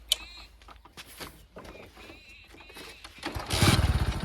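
A motorcycle that stalls when a rider sits on it sputters and revs near the end, loud and close, after a stretch of quieter shuffling and faint noise.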